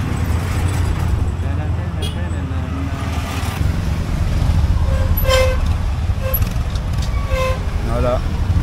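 Busy street traffic in Cambodia, with engines rumbling steadily and several short car horn toots sounding at intervals. Someone talks over the traffic.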